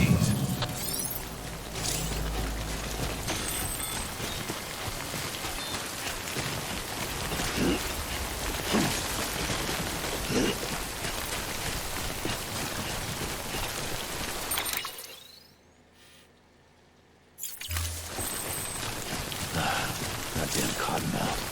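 Steady rain pours down in the Death Stranding video game, a dense continuous hiss of drops on surfaces that cuts out briefly to near silence before resuming at the same even level.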